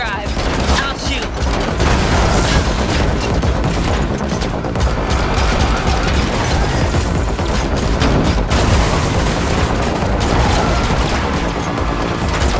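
Rapid gunfire rattles through a car chase in The Matrix Awakens Unreal Engine 5 demo, dense bursts and booms loud and continuous over engine noise, with voices mixed in.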